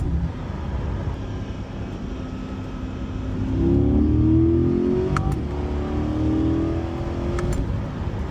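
A 2023 Corvette Stingray with a DCT gearbox accelerates hard, its engine note climbing in loud rising sweeps broken by quick gear changes, then rising again, with no voices.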